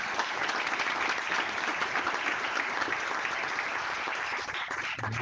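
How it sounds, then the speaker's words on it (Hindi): An indoor audience at a Hindi-language session on Indian languages bursts into sustained, dense applause after a speech, loud and even throughout with no talk over it. "बहुत बढ़िया हर्षदीप, तालियां बता रही हैं कि बहुत बढ़िया उद्बोधन रहा आपका।"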